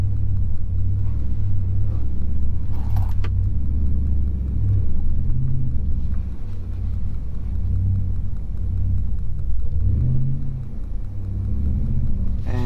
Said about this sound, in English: So let's just see if she'll climb back up this hill in two-wheel drive.